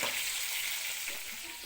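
Seekh kebabs frying in oil give off a steady, fairly faint sizzling hiss that runs unbroken and alone throughout.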